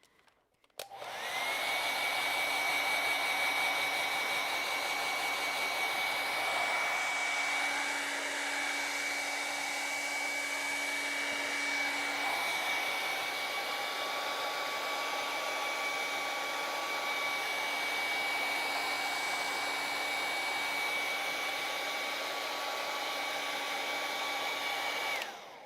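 A hair dryer blows steadily over wet acrylic paint, a close, even whooshing hum with a constant whine that runs unbroken for the whole stretch before it switches off.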